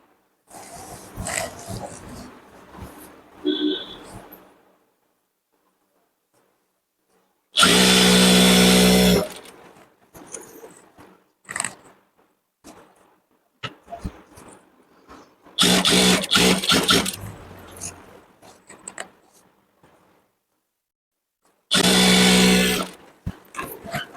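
An electric sewing machine stitches fabric in a tailoring class, running in three loud, steady bursts of several seconds each, separated by quieter handling noises and pauses.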